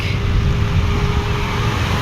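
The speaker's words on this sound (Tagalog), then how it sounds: "Grabe ang traffic." Steady road traffic along a busy street on the way to Imus, a loud continuous rumble of engines and tires close by, with no voices.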